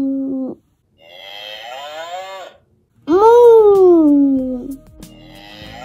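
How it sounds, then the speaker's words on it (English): A cow moos in long, loud, drawn-out calls, with a short low call first, then a longer wavering one, and a final strong sweeping moo, all clear and close. "What sound does a cow make?"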